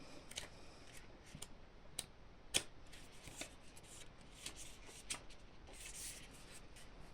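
An oracle card is drawn from a deck with quiet, close papery shuffles and flicks, several soft slides and snaps spread across a few seconds in an otherwise hushed room.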